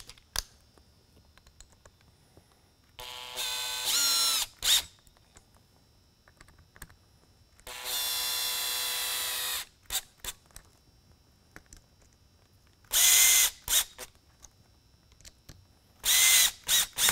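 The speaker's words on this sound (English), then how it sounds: "Retainer screws on the back, re-secured into place." An electric screwdriver drives retainer screws back into a Whelen ION emergency light, giving four loud whirring bursts of one to two seconds each, with small clicks and handling noises in the quiet gaps between them.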